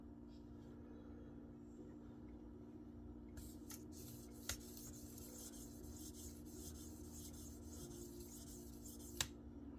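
A Case Sodbuster knife blade is drawn across a sharpening stone on a TS Prof Kadet Pro system, giving faint, steady rasping strokes over a low background hum, with a couple of brief clicks.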